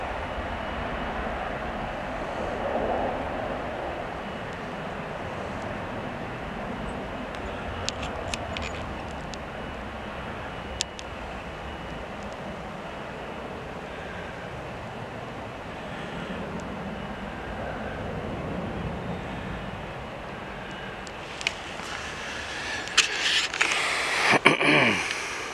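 A Turkish Airlines Airbus A321 takes off at Manchester Airport, producing a steady, distant jet roar and rumble that holds for the whole stretch and swells slightly near the end, with no talking.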